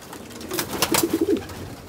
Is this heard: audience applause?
no